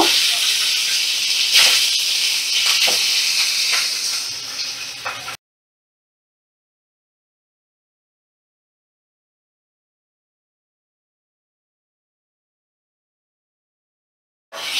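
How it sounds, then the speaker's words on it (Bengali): Fish frying in mustard oil in a wok over medium flame, a steady loud hiss and sizzle for about five seconds, then silence until a brief return of sizzling at the very end. "মিডিয়াম ফ্লেমে রেখে মাছগুলো ভাজা করে নিচ্ছি।"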